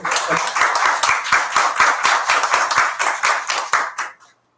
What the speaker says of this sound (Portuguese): precisamos umas palmas para todos nós